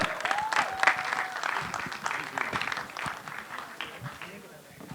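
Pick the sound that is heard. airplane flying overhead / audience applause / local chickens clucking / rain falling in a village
audience applause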